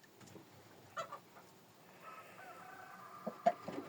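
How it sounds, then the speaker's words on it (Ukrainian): Farm chickens cluck softly at a distance in a quiet evening setting, with scattered short calls and a faint drawn-out crow. "Ті кури, з яких ми все починали"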